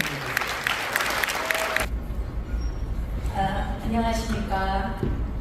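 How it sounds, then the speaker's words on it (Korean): Audience applause at a Korean church conference on developmental disabilities welcomes a professor to the podium, a broad clapping wash for about two seconds before it stops and someone speaks alone. "우리 뜨거운 박수로"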